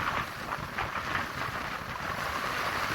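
A boat's hull pushing through choppy water at 8 knots, a continuous rushing wash and slapping of waves close by, mixed with wind buffeting the microphone.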